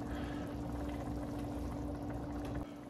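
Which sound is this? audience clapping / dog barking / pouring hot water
pouring hot water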